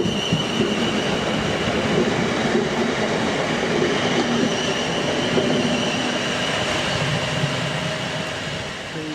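A passenger train pulls out of Worplesdon station bound for Portsmouth Harbour on the former London and Southampton Railway line, a steady loud rumble of wheels and engine close by that fades slightly as it departs.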